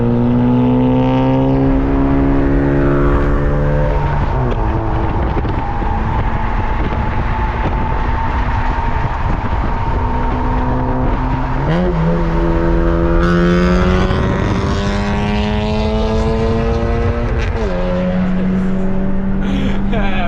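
Honda hatchback, a K-swapped CRX, driving on the road, heard from inside the cabin: a loud, steady engine drone that rises in pitch through the gears and drops at each shift, with road roar throughout and someone talking over it.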